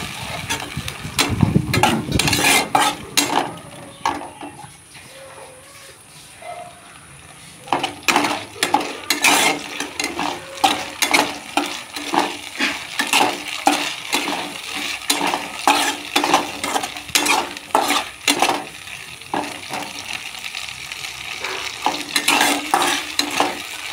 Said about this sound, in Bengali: বেটে রাখা কাঁচা লঙ্কা সমস্ত কিছু দিয়ে মশলাটা একটু কষে নেব।